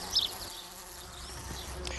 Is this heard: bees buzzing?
yes